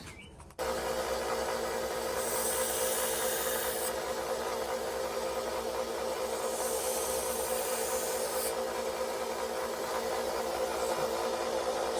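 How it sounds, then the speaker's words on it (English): A vintage Schrade knife blade is reshaped and sharpened on a powered grinder, giving a steady, close rasping whir that runs continuously after a brief start. "Now I'm gonna reshape this blade for him and sharpen it up."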